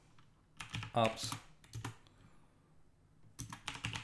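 A command is typed on a computer keyboard in quick clattering bursts of keystrokes separated by pauses, with someone speaking briefly between them.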